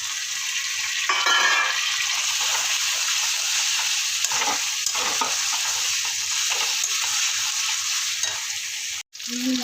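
Tomatoes go into a pan of frying chicken and rice with ginger and garlic, giving a continuous loud sizzle with stirring and occasional utensil scrapes. The sound cuts out briefly near the end.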